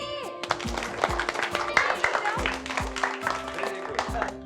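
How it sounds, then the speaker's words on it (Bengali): A group of children clap their hands together with rhythmic, repeated claps mixed with chattering voices. "হাততালি।"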